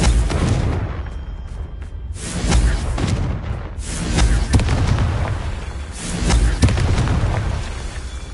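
Repeated Confringo fire-spell explosions in the video game Hogwarts Legacy, several loud booming blasts in irregular succession, each with a rumbling tail and a crackling burst.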